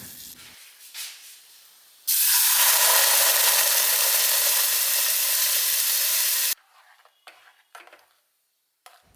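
Mustard seeds, dried red chili and curry leaves hit hot oil for an idli chutney tempering, bursting into a loud, steady sputtering sizzle that lasts about four seconds before cutting off abruptly, with quiet kitchen handling before and after.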